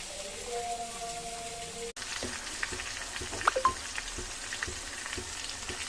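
Drumsticks hitting hot oil with onions, chillies and curry leaves: a steady loud sizzle throughout, a brief break near two seconds, then renewed frying with scattered pops and stirring clinks up close, with faint talk now and then.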